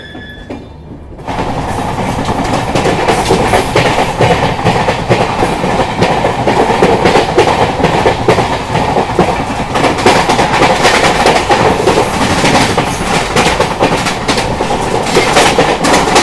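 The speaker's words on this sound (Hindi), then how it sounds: "भाई अपनी ट्रेन निकल चुकी है LTT रेलवे स्टेशन से।" The Udyog Nagri Express train, just departed from LTT railway station, rumbles loudly and continuously with rhythmic clickety-clack of wheels on rails, starting after a brief quiet moment and recorded from on board with no talking.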